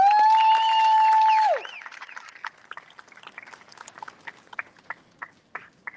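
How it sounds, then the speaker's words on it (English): An outdoor International Women's Day rally crowd applauds a speaker: a loud whistle or horn-like tone opens, then scattered, fairly distant claps and cheers trail off. "Let's give her one more round of applause."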